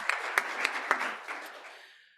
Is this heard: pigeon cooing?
no